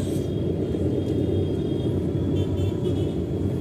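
Car engine droning steadily as the vehicle moves slowly through a crowded rush-hour street, a continuous low rumble heard from inside the car, loud and even with faint outside noise and no talking.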